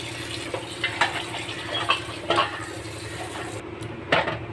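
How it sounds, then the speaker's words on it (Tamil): Water sloshes and splashes in short bursts, with soft clattering of a vessel as produce is swirled and rinsed; no talking. "3 வாட்டி நல்லா அலசியாச்சு."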